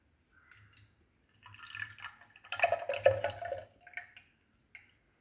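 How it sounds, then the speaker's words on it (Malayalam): Thick curd poured into a pot of Kannur-style ginger curry, giving soft wet drips and splashes that build to a louder, denser pour in the middle before trailing off into a few faint drops. "ഞാൻ തൈര് ഒഴിക്കുന്നത് കാണിച്ചു തരാം കേട്ടോ."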